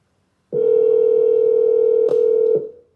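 A steady electronic telephone tone sounds loud and unbroken for about two seconds on a recorded phone call, with a brief click partway through before it cuts off.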